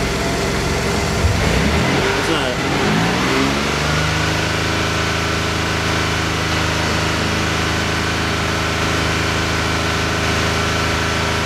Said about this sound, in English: I'm gonna give it a little gas.